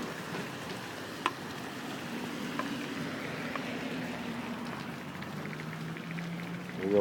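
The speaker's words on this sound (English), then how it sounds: "It's not raining extremely hard," Steady rain falls around a building with scaffolding set up, a broad continuous hiss with occasional sharper drips and splashes, moderately loud and with no voices.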